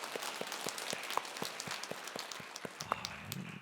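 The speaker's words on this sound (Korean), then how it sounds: "우리 하나님께 감사 박수 올려드리겠습니다" A church congregation claps in thanks during a Korean sermon, a soft, fairly sparse patter of hands heard at a distance, light and slightly uneven with no talking over it.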